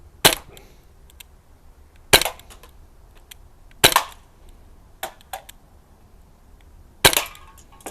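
Crosman Mako air rifle firing outdoors at icy targets: five sharp snapping shots spaced a second or two apart, each followed by faint ticks of pellets striking, with quiet between.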